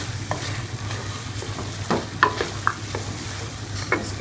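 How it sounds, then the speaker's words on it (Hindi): Vegetables, chillies and chicken stirred in a hot frying pan, a steady close sizzle with occasional scraping strokes of a spoon against the pan. "हम मिक्स कर लेंगे इसके साथ।"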